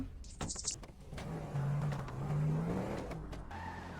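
A car engine revs in a video game, with a rising and falling motor tone over a couple of seconds, fairly close, mixed with clicks and other game sounds.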